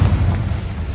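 Deep rumbling blast from the Confringo explosive spell in Hogwarts Legacy, a loud low boom that rolls on and slowly decays across about a second.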